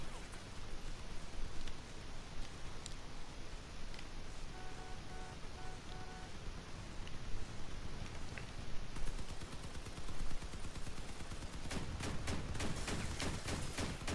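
Gunfire in the Crossout vehicle combat game, a constant dense crackle of shots throughout with scattered sharper bursts, growing into heavier rapid fire near the end, no talk.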